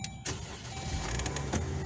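A Jeep engine cranks and catches after a brief pause, then settles into a steady, moderately loud running drone.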